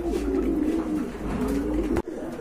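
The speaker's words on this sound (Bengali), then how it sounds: "এটা কিন্তু আপনার অনেক বড় কবুতর, বড় পায়রা, খুবই সুন্দর জোড়া আছে না ভাই?" Large pigeons kept in pairs for sale coo close by in a steady, throaty murmur, with a brief thump near the end.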